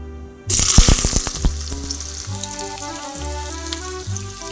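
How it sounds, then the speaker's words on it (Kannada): Chopped onions hit hot oil in a pan for buttermilk sambar, erupting into a loud sizzle with a few clattering stirs, then settling into a steady, softer frying hiss. "ಆನಿಯನ್ ಹಾಕಿ ಚೆನ್ನಾಗಿ ಫ್ರೈ ಮಾಡಬೇಕು"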